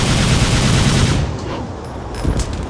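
Dante's guns fire in Devil May Cry, a loud close burst of rapid shots lasting about a second before fading into softer scattered impacts.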